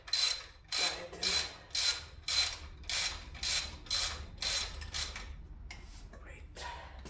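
Ratchet wrench loosening exhaust manifold bolts on a Golf MK2 GTD, giving about ten rapid clicking bursts in a steady rhythm, close and fairly loud, before a few fainter clicks at the end.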